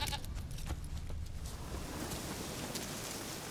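A goat bleats in the video game The Witcher 3: Wild Hunt, a few short calls early on amid an ambient outdoor wash that continues after the calls fade.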